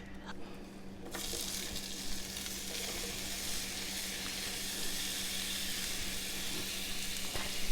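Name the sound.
peppers sautéing in a pan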